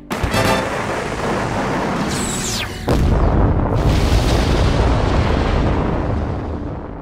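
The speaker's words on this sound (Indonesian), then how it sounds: "Di sini ledakan besar pun terjadi" A loud, sudden boom in an anime followed by a roaring, sustained blast that rumbles on with crackling debris, with a brief whooshing sweep before the second burst.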